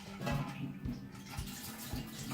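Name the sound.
pouring water into brew pot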